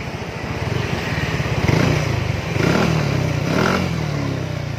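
A Yamaha motorcycle with its stock exhaust revs up close, the engine throbbing at a rapid idle and swelling through several throttle blips before settling, loud and alone.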